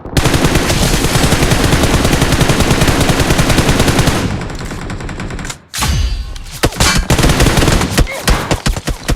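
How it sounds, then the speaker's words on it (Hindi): Sustained automatic gunfire in the battle royale video game BGMI during a warehouse fight, loud and continuous for about four seconds, then breaking into scattered bursts and single shots after a brief pause. "यहाँ पे गोलियों की आवाज़ आती है"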